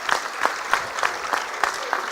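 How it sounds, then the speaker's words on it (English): A convocation audience claps for itself in steady, full applause with distinct rhythmic peaks, loud and close, lasting about two seconds. "Let's clap for ourselves."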